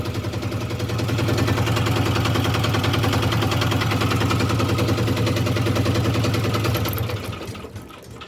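A walk-behind tractor's diesel engine starts and settles into a loud, steady, rapid chugging idle close by, running evenly for several seconds before the sound tails off near the end.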